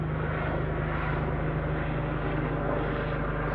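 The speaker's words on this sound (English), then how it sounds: "But this is a police helicopter." A police helicopter circles overhead in South Wales, giving a steady, loud rotor and engine drone that holds without a break throughout.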